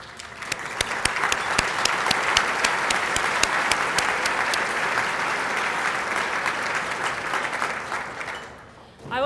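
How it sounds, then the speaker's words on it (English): A luncheon audience gives an honored couple a full round of applause, dense and even for several seconds before tapering off abruptly at the end, with no speech over it. "I'd like to offer you an appropriate round of applause"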